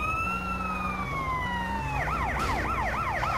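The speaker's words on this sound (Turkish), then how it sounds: "Ambulans geldi dur." A wailing ambulance siren in Grand Theft Auto: San Andreas sweeps slowly up and down, then switches to a fast yelping warble, loud and steady over a low engine rumble.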